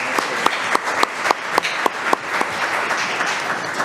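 A small audience applauds a student called forward at a school board meeting, with a dense wash of clapping and several sharper individual claps standing out, steady and close for the whole stretch.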